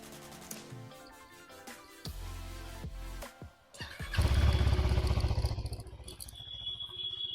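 A Husqvarna Svartpilen 401 motorcycle starts up with some clatter, then settles into a loud, rumbling idle close by.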